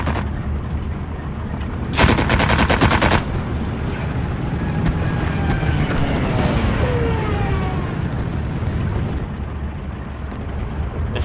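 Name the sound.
machine gun fire in video game Steel Division 2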